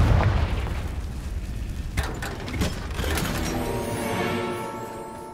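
A Confringo fire spell bursts in Hogwarts Legacy, a heavy booming blast with crackling debris, followed by further impacts and a rumbling tail over several seconds.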